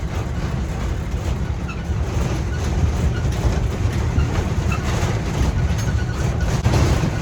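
Rattling train ride between Can Pastilla and S'Arenal in Mallorca, with a steady loud rumble of wheels and carriage clatter running continuously throughout, no voices.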